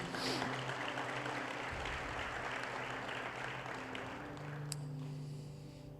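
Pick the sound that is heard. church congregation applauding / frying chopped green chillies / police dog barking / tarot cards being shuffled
church congregation applauding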